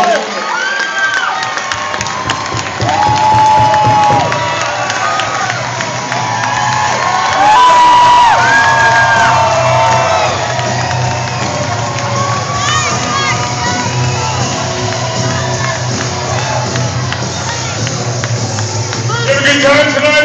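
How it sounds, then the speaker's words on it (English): A crowd at a wrestling show cheers, whoops and applauds continuously for about twenty seconds, loud and sustained, with shouting voices mixed through the roar. "you guys give Mr. Anderson a rousing room of applause."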